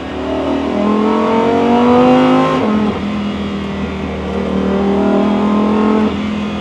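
An ABT XGT race car engine revs hard and loud, its pitch climbing through the gears in rising sweeps with a brief drop at each shift, close and continuous.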